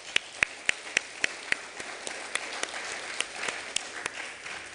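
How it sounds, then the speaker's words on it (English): Small meeting audience at the GAAS Founder's Week programme clapping, starting with a few distinct, evenly spaced claps that spread into a thin, scattered round of applause at moderate distance. "let's all clap."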